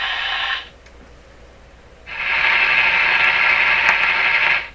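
Hiss and static from a Canadian Crosley 12B radio receiver being tuned, loud noise that drops away, stays quiet for over a second, then returns steady and strong to the end.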